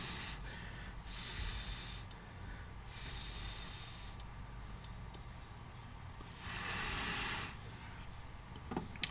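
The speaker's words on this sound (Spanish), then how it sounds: "Voy a soplar un poco el sensor para que pues se varíe un poco la temperatura" Breath blown in short gusts onto an Arduino temperature sensor, three soft hissy bursts of air close to the microphone, separated by quiet pauses over a low background hum.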